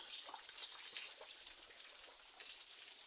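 Steady rushing of a waterfall pouring through a forest cave, a continuous broadband hiss of falling and splashing water that holds unbroken and fairly close for the whole stretch, with no voices.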